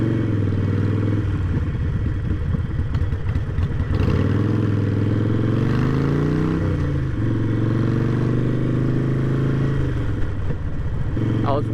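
A Harley-Davidson Iron 883 fitted with 6-inch Biltwell Z bars cruises at about 50 mph, its engine droning steadily and loudly under heavy wind buffeting, with a brief dip and rise in pitch midway; a rider talks over it.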